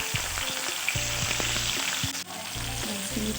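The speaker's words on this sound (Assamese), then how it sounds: "তেল দি মাছ গৰম হোৱাৰ পিছত মাছ দি দিলোঁ। ফ্ৰাই কৰি আছোঁ।" Fish frying in hot oil in a wok, giving a steady, close, crackling sizzle that runs unbroken throughout with no talking.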